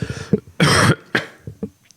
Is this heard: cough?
yes